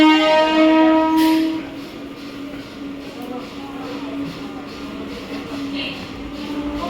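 A local commuter train's horn sounds briefly at the start, then the steady rumble and rattle of rolling carriages continues.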